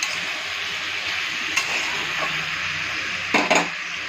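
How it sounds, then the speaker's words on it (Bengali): Vegetables with salt fry for sambar in a pan, a steady close sizzle broken by occasional scrapes and metallic clinks of the stirring spoon, with a sharper double clatter near the end. "এইভাবে সবজিগুলো একটু ভালো করে নেড়ে চেড়ে ভেজে নেবেন"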